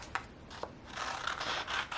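An old 3/8 inch Stampin' Up circle punch cuts paper, making a couple of short crisp clicks followed by soft scraping and rustling, close and quiet.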